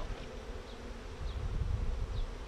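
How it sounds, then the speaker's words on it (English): Honey bees swarm around an open hive frame during a beekeeping lesson, a steady close buzzing hum with passing individual insects, without talk. "so look at all those bees"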